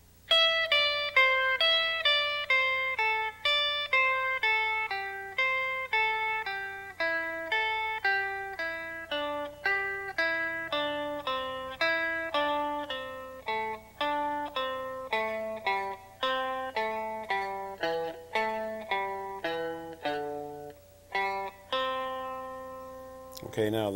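Country guitar runs up a scale note by note, each plucked tone ringing clearly and decaying in a steady, even rhythm, alone and close, ending on a strummed chord.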